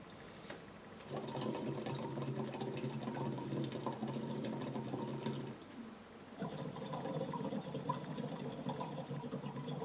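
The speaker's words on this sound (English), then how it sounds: "So, try to bubble the water like that" Steady bubbling of water blown through a tube in a Lax Vox voice therapy exercise, a continuous gurgling that stops briefly midway and then resumes at the same even rate.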